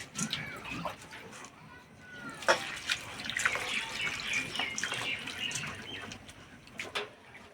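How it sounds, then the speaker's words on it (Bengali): Flattened rice (chira) being rinsed clean by hand in a bowl of water, with close, intermittent swishing and splashing across the whole stretch and occasional louder sloshes. "এবার চিড়েটাকে পরিষ্কার করে ধুয়ে নেব"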